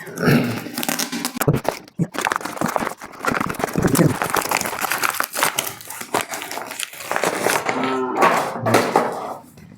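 Wrapping paper crinkles and crumples as a book parcel is torn open, with close, irregular rustling bursts and a few quieter pauses between them.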